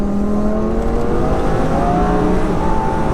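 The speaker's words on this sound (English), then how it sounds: "So what I think I'll do is try maybe a 4th gear pull so it's not so harsh on" A 1200bhp twin-turbo Audi R8 pulls hard through fourth gear, its engine note climbing steadily in pitch as it accelerates, loud and close throughout with no pauses.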